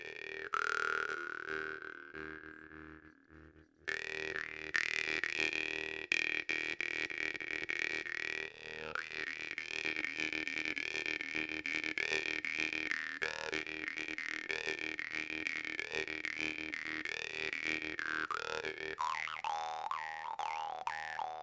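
A Plekhanov Megatron 137 jaw harp (drymba) plays a steady, buzzy twanging drone with shifting, vowel-like overtones, starting softly and then louder and fuller with rhythmic plucks, close and alone without talk.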